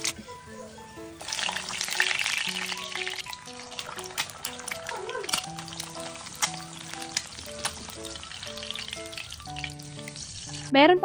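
Hungarian sausage frying in a pan, a close bright sizzle with crackles and spatters that swells and eases, background music playing underneath.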